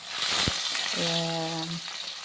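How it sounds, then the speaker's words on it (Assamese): Fish frying in oil in a wok (kadai), a continuous close sizzle with a brief tonal clank partway through, no talk. "এতিয়া মই কেৰাহীত তেল দিলোঁ। সেইখিনিতে মই মাছকেইটা ভাজি ল'ম।"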